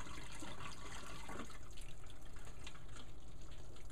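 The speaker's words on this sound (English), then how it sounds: "All right, then we wanna drain them." Hot water from boiled potatoes pours out of a pot into a sink in a kitchen, a loud continuous rushing splash that eases into gurgling and dripping toward the end.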